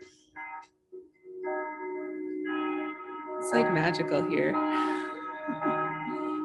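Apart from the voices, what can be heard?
bell ringing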